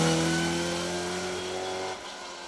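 A Ford Fiesta Rally3 car on an asphalt rally stage roars loudly nearby with a high, buzzing tone, then fades and drops in pitch as it moves away, ending with a quick shift in sound.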